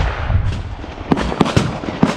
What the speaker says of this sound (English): It's my son shooting Kim Jong-un with the AR-9.